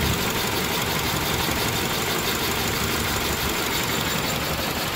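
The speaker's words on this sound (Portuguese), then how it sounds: "Ó o motor. Ó, perceba a vibração e o barulho rajando" A misfiring three-cylinder car engine idles roughly with heavy vibration, a dense, continuous uneven rumble heard up close with no talking.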